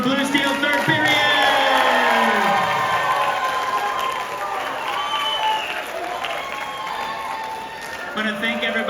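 Audience applause with cheering and whoops for the Blue Steel band from Matanzas High School at a holiday concert in an auditorium, a broad steady roar of clapping that continues through the clip and tapers slightly near the end.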